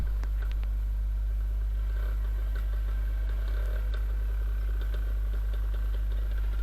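A group of motorcycles, including a Viper 200, a Shineray X Trail 200 and a Geon X-Road, rides together, giving a steady, loud, low engine drone with faint rattles and clicks on top.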